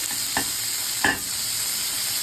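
Coriander seeds, garlic, ginger, chillies, tomato, onion and curry leaves frying in a pan for cabbage chutney, a steady sizzle with two short scraping stirs of a spatula, close and clear, no talk.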